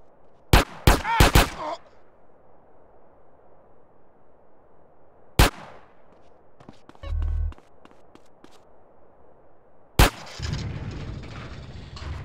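Gunfire in the video game GTA San Andreas, a quick burst of loud sharp shots, then single isolated reports and a distant rumble, with game footsteps and effects between them.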